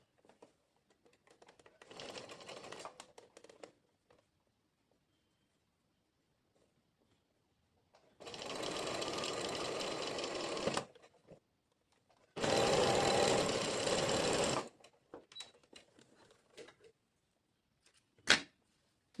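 A sewing machine stitches a muslin dress in three bursts of steady rapid whirring, one short and softer, then two loud runs of about two seconds each, with quiet gaps and a sharp click near the end.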